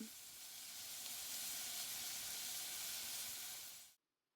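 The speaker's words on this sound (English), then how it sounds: "add our onions, and let those sizzle away for a little bit." Steady, dense sizzling of onions frying in hot oil in a pan, continuous and fairly close, with no talking, cutting off abruptly at the end.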